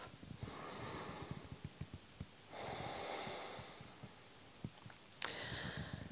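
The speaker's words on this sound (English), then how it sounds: "keep the breath deep and intense on throughout the whole inhale and the whole exhale" Deep, intense nasal breathing during pranayama breathwork, slow even inhales and exhales in long drawn-out cycles, close and fairly quiet with a sharp sniff near the end.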